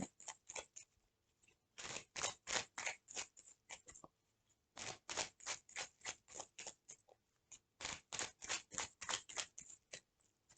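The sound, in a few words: cutting a deck of tarot cards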